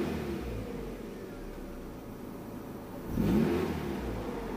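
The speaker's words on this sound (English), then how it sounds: "engine's warmed up now" A Mazda MX-5 Miata NB engine, warmed up after an EVAP delete, idles quietly and then gives one brief rev that swells and fades back to a low idle.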